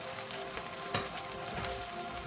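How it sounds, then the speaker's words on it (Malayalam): Curry mixture with water added cooks in a pan, giving a faint, steady sizzling and bubbling with one or two soft stirring clinks, quiet and without any voices. "എന്നിട്ട് അതൊന്ന് വെള്ളം കൂടെ ചേർത്തിട്ട്"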